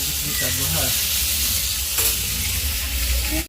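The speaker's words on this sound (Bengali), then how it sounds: "সামান্য একটুখানি লবণ আর একটুখানি হলুদ দিয়ে আমি হালকা করে জাস্ট বেগুনটা ভেজে নিচ্ছি" Eggplant pieces frying with a little salt and turmeric, a dense, loud, steady sizzle close up that fills the whole stretch without break.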